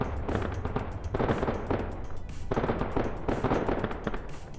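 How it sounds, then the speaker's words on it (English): Sustained gunfire barrage in a video game, dense rapid volleys of shots crackling continuously with brief gaps, loud and close throughout with no talk. "We just get to listen to the barrage of Yep. gunfire."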